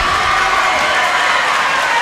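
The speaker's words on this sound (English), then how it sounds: "The crowd giving Coach Campbell some appreciation" A basketball crowd at a boys' high school bi-district playoff game cheers and applauds for a coach, a steady, loud wash of clapping and shouting voices filling a gym.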